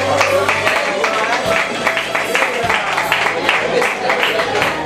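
A live audience at a televised singing gala breaks into steady, sustained applause for a singing duo, a dense wash of clapping that fills the space and mixes with crowd noise.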